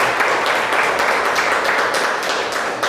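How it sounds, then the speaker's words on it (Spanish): A church congregation applauds together during a Sunday morning service, dense sustained clapping filling the room at steady loudness for a few seconds with no talk over it. "Dele un fuerte aplauso al Señor Jesús."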